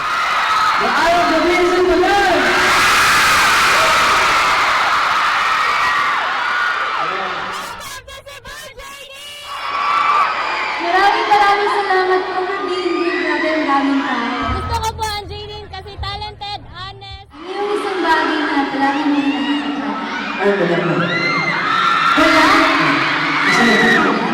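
Live television crowd at a love-team show in Cebu, fans shrieking and cheering in loud sustained waves, dropping briefly twice before surging again, with excited yelling over the roar.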